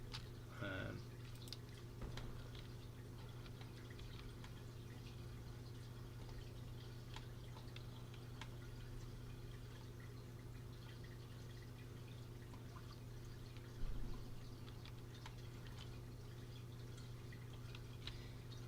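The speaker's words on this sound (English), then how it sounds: "why I put a waterfall fountain inside this aviary" A waterfall fountain trickles inside a dinosaur aviary in the park-building game Jurassic World Evolution 2, a faint steady drip and splash under a low background hum, with one slightly louder splash partway through.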